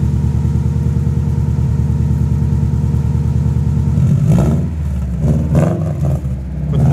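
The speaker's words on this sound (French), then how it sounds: "Louis, mets un tout petit peu de gaz parce qu'elle est froide." A cold sleeper car with an aftermarket exhaust idles with a deep, steady burble, then takes a few short blips of throttle toward the end, close and loud with no voices.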